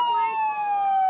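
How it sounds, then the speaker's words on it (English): A Hartford Police Department car siren wails close by at a city St. Patrick's Day parade, a single sustained tone sliding slowly downward with no talk over it. "we get like the sirens driving by, but that's the Hartford Police Department"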